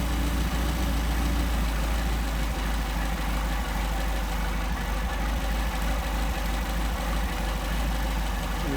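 An engine fitted with 44PHH Solex carburetors idles steadily up close, a continuous low rumbling drone with slight uneven pulsing and no speech.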